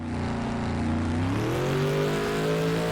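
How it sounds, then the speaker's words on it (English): A game vehicle's engine in an Unreal Engine 5 demo runs steadily and loudly, its hum rising smoothly in pitch midway as it revs up, with no speech. "we hear the same running engine smoothly instead of restarting the entire sound"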